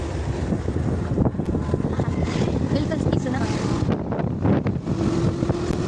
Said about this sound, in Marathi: आमची गाडी आता सापासारखी रेंगत रेंगत चाललेली आहे